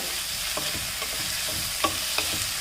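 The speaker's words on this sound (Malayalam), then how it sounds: "ഹൈ ഫ്ലെയിമിൽ വെച്ച് ഉള്ളി ഒരുമാതിരി ഇവിടെ വഴന്ന് വന്നിട്ടുണ്ട്" Onion sautéing in a pan over a high flame for a chicken roast, a steady close sizzle with a few soft stirring scrapes and clicks scattered through.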